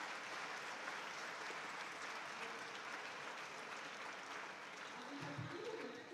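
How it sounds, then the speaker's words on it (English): A crowd applauds steadily, a dense wash of clapping holding at an even level for the whole stretch, with a brief murmur late on. "You can give him a round of applause."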